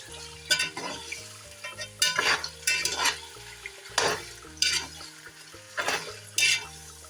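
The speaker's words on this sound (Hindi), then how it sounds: "अब होगा चिकन फ्राई।" Chicken fries in a pan with a steady low sizzle, punctuated by repeated loud bursts of stirring and metal utensil scraping against the pan, about one every second.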